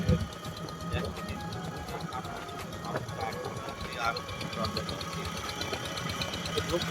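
A small village motorboat on Chalan Beel wetland runs with a rapid, chattering engine knock that stays steady and close throughout, while voices talk over it.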